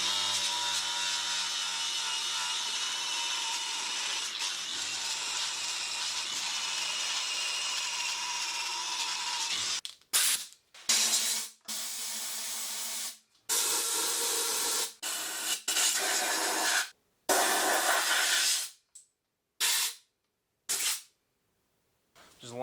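A purple stripper disc grinds RTV sealant off the metal of a Dana 60 axle. A continuous, harsh whir lasts about ten seconds, then breaks into short on-off bursts with silent gaps.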